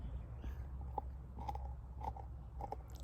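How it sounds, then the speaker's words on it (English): A dog gnaws on a bone close by, giving quiet irregular crunches and bites over a low steady background hum. "Sorry about the chewing."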